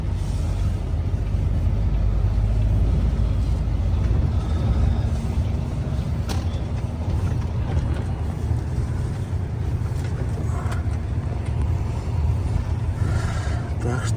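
Car driving on the road out of Yakutsk, heard from inside as a steady, loud low rumble of engine and tires that continues without a break.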